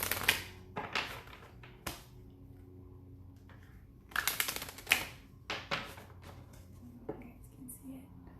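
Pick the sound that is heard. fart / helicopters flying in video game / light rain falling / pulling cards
pulling cards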